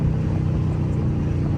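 A Dodge Charger R/T with a 5.7 V8 and no mufflers or resonators cruising on the highway, its deep steady exhaust drone humming low and loud from inside the car.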